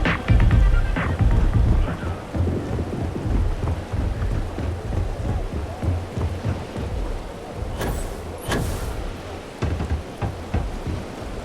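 Steady rain pours with low rolling thunder rumbling underneath, heard in the Starfield video game on the planet Neon; a loud thunder crash opens, followed by a few sharp brighter bursts later on.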